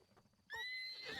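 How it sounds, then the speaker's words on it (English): A horse in the video game Breath of the Wild lets out a sudden, loud, close whinny that rises and trembles through its second half after a quiet start. "Get this horse instead"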